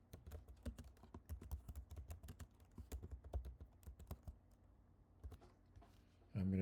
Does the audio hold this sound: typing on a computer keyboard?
yes